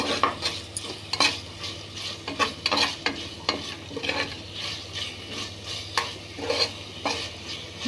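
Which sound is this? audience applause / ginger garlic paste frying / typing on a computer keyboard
ginger garlic paste frying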